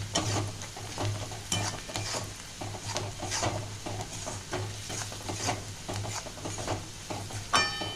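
Spices with turmeric fry in a pan for a pointed gourd bharta, a continuous close sizzle overlaid with brisk, repeated spatula scraping and stirring.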